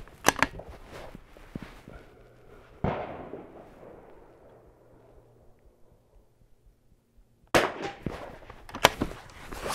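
Rifle shots at an outdoor shooting range stage, fired from a long-range rifle: a sharp blast at the start, another loud crack with a long fading echo, then a tight cluster of shots near the end.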